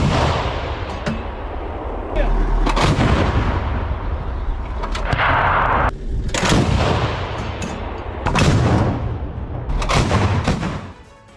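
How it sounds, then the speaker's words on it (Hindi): An S-60 anti-aircraft gun fires in a combat setting, with loud repeated heavy shots and booming reports in uneven bursts, close and harsh, with rumbling echoes between them. "S-60 एंटी एयरक्राफ्ट गन का इस्तेमाल यहां पर किया गया है"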